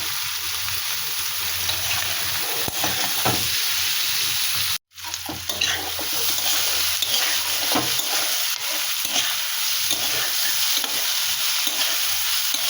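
Steady, loud sizzling of spiced chicken and potato frying in a pan, with occasional stirring scrapes and a brief dropout partway through; no voices.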